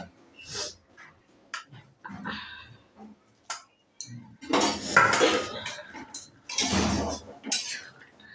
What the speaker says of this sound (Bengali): এবার আমি ভেজে রাখা ফুলকপিগুলো দিয়ে দিচ্ছি